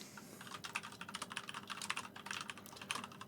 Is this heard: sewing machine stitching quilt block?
no